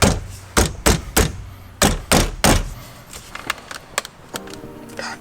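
Hands smack the steering wheel of a Tesla Model Y several times to work it loose, giving loud hollow thumps in quick clusters. Softer clicks and knocks follow as the wheel is handled.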